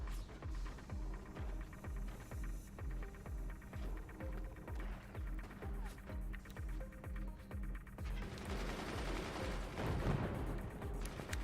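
Machine gunners fire steadily in the Forts RTS game, a rapid, regular rhythm of close shots running throughout, joined by heavier, denser bursts and booms near the end.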